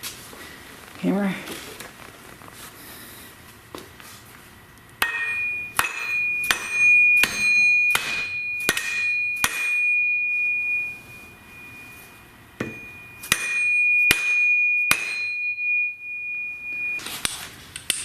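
Sharp metallic hammer taps ring out in quick bursts while an axle is slid into a GM 9.25 front differential on a 3/4 or 1 ton Chevy or GMC truck, with a steady electronic tone running beneath.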